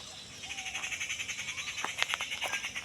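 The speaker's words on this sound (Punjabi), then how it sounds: "ਪੰਛੀ ਬੋਲ ਰਹੇ ਨੇ ਪੰਛੀਆਂ ਦੀਆਂ ਆਵਾਜ਼ਾਂ ਤੁਹਾਨੂੰ ਬਰਾਬਰ ਆ ਰਹੀਆਂ ਹੋਣਗੀਆਂ" Repeated chirping and croaking calls from nearby wildlife, a rhythmic pulsing chorus with a few sharper bird notes rising above it.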